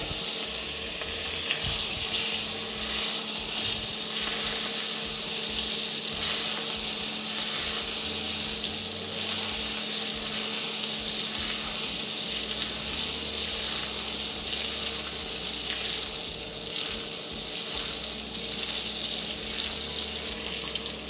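Butter sizzles steadily in a hot pan alongside roasted, caramelised scallops, a continuous bright hiss with faint bubbling and no voices.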